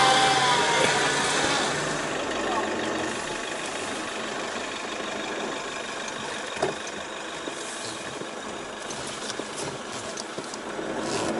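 Car engine straining and idling while pulling a stuck car through Sahara sand dunes in the Grand Erg Occidental, Algeria, a moderately loud, steady rough drone with a few faint knocks.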